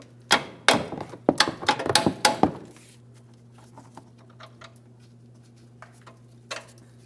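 Metal tapping knocks out a control arm cam on a 2007-2014 GMC Sierra 2500 HD: a quick burst of about eight sharp, close hammer strikes, then a few faint scattered taps over a steady hum.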